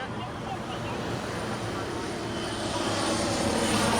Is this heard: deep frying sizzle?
no